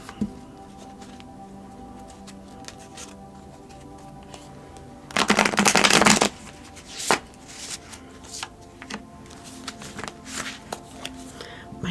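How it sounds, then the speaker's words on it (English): A stiff deck of tarot cards is shuffled by hand: quiet scattered riffles and taps, then a dense, loud burst of shuffling lasting about a second, followed by a few sharper card snaps. "all the shuffling and stuff, I have a really stiff deck"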